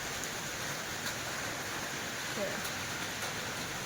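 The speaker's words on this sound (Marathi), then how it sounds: "जोराचा पाऊस चालू झाला" Steady, heavy rain hisses continuously, a dense unbroken wash of sound with no pauses.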